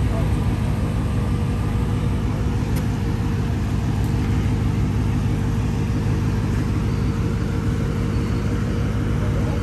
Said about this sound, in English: Hellcat coming up here right now.